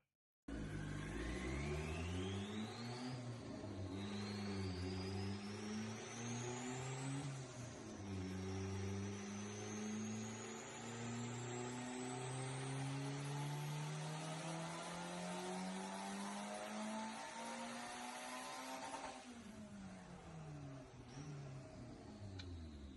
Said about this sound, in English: Turbo GSR smoking on the dyno.